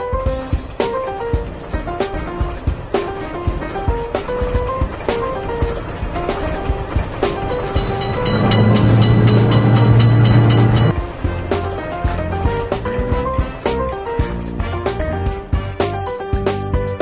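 A cartoon train rumbles past a railroad crossing in a children's mobile game, over looping music and chimes, with a sustained horn-like blast in the middle. No one speaks.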